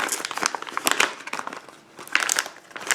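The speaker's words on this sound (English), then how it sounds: "A perfect plastic bag for putting a ball inside." A thin plastic bag crinkles in quick, bright bursts close to the mic, with a short lull partway through before the rustling picks up again.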